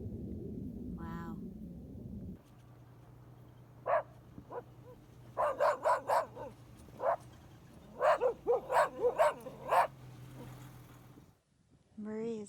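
Dogs on a hilltop outdoors give bursts of short yips and barks, clustered in quick runs over a low steady hum, fairly faint and close.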